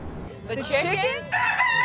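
A rooster crows in Key West, a drawn-out cock-a-doodle-doo that rises and holds its final note, loud and close, with faint background noise.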